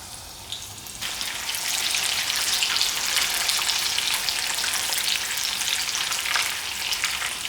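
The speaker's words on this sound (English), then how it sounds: "Okay guys, let's deep fry our samosas" Beef samosas deep fry in a pot of hot oil, a dense, steady bubbling sizzle that swells louder after the first second and holds close and continuous throughout.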